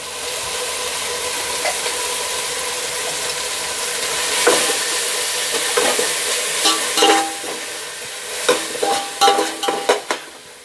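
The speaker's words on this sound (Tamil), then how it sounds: "ஏன்னா வந்து நம்ம அரைச்சி வச்ச வெங்காயத்தை வந்து நம்ம வதக்கிட்டு இருக்கோம்." Ground onion paste sautéing in a pan for Dindigul-style mutton biryani, a steady close sizzle with stirring scrapes that grow busier and more clattery toward the end, no voices.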